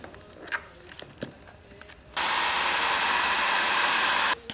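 Light handling clicks and taps give way to a heat gun on vinyl wrap over a front bumper. It blows with a steady loud hiss for about two seconds, then cuts off abruptly.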